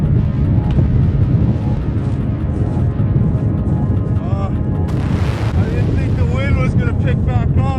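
Strong Arctic wind roars steadily and loudly, buffeting the microphone in open coastal wilderness, with someone speaking under the gusts.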